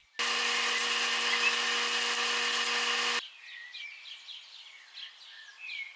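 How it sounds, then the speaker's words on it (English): Cinnamon sticks grind to powder in a small electric grinder, one loud, steady whirring burst lasting about three seconds that stops abruptly, followed by quieter chirping in the background. "Grind some cinnamon sticks to make fresh cinnamon powder"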